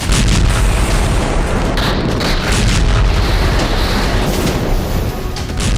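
Russian night-time strikes on Sumy, Ukraine: loud, heavy, rumbling explosions and booms that fill the whole stretch, dense and distorted, with no talking.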